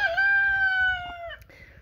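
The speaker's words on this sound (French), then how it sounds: "une petite poule de soie qui vient de sortir de couvaison, qui n'a malheureusement pas eu de petit. Donc d'où le fait qu'elle gueule un peu" A silkie hen just out of brooding, with no chicks hatched, lets out a loud drawn-out squawk up close, one sustained call that wavers and breaks off near the end.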